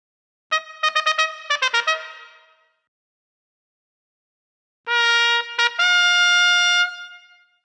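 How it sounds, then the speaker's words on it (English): A trumpet from the Lamb Chop Loves Music computer game sounds two bright phrases: a quick run of short staccato notes, then after a pause a longer passage of sustained tones, clean and alone. "You found the trumpet."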